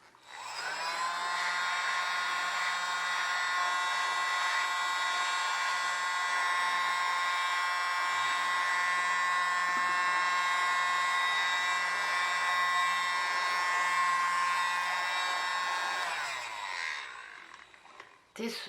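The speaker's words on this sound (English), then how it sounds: "I think these things are called the smallest blower or the tiniest blower or something like that." A tiny electric blower aimed at alcohol ink on a coaster whirs steadily with a high tonal whine and airy rush for about sixteen seconds, then cuts off.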